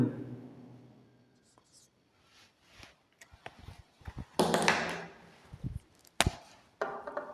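Chalk or marker scratching out an equation on a board during a maths lesson, intermittent strokes and taps that grow sharper and louder mid-way, with a soft voice murmuring underneath.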